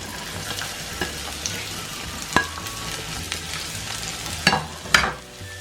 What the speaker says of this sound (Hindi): ऑयल डाल दिया, इसमें प्याज डाली